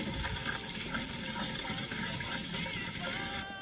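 Water pours and gushes steadily onto a newly planted tree on a dry highland slope, a continuous close splashing stream that stops abruptly near the end.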